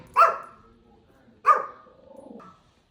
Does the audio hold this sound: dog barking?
yes